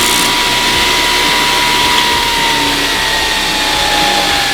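A belt grinder runs continuously and loudly, its steady whine and harsh abrasive roar persisting as welded metal for a recreated 1923 Ford Model T skull hood ornament is ground against the belt.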